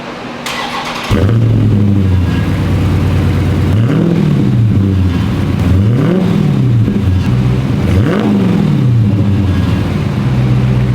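A Dodge Charger engine cold-starts, cranking and firing into a loud, deep idle, then revs up and settles three times in a steady rhythm through a throaty valved exhaust.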